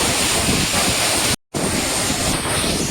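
Agaya Gangai waterfall in the Kolli Hills, its water rushing in a steady, loud, broadband roar with a brief dropout midway, heard up close and alone.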